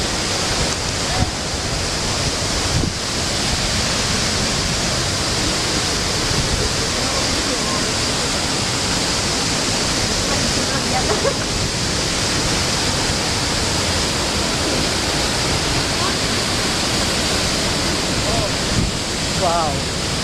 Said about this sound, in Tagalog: Ito na itsura ng 7 Falls ng Mambukal.